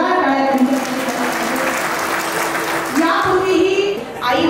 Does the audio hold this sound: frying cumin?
no